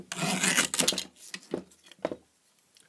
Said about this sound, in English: Guillotine is the way to cut printed circuit board material.